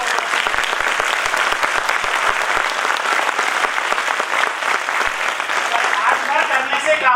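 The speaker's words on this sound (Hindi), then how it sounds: "तो एक जोरदार तालियां होना चाहिए आपको।" Loud, dense applause from an audience at a motivational speech event, steady throughout with sharp individual claps early on, and a voice briefly emerging near the end.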